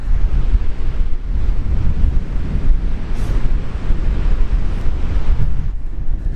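Strong wind roars across an ocean beach, buffeting the microphone in a continuous loud rumble with surf blending underneath, no voices.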